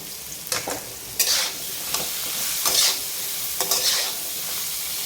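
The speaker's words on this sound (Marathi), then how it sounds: "हे मिश्रण आपण एकत्र सगळं हलवून घेऊ" A spoon scrapes and stirs through bottle gourd and green chilli in a sizzling pan, with several distinct stirring strokes over a steady frying hiss.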